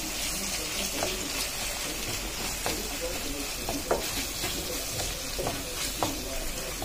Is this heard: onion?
yes